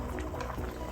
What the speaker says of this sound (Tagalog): Ngayon kumukulo na siya.